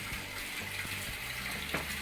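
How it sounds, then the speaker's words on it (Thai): Water pumped from a tank pours through a watering-can rose onto trays of rice seedlings, a steady close shower of splashing and gushing. "ปล่อยน้ำล้นลงในถัง แล้วก็ปล่อยออกฝักบัวแบบนี้นะครับ"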